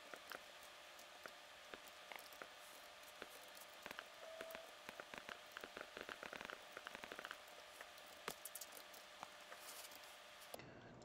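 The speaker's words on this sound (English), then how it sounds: "oh, it just started raining" Rain falls in the Minecraft video game, a soft, steady patter of drops on surfaces with scattered crisp droplet ticks, faint and continuous with no talking.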